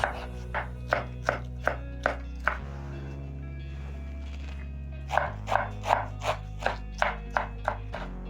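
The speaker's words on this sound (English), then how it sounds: "chop up my pumpkin leaves very fast" A knife chops pumpkin leaves rapidly and rhythmically on a board, in quick bursts separated by a pause, over a low steady music bed.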